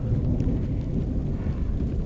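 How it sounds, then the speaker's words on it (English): A thunderstorm rolls in over an off-grid homestead in the Karoo as rain begins, a loud continuous low rumble with wind buffeting and steady rainfall beneath. "the rain is starting and the storm is picking up"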